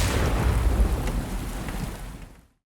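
Heavy rain pours steadily with deep thunder rumbling beneath, a dense stormy wash that fades out at the end, with no voices, standing in for sulfuric acid rain on Venus.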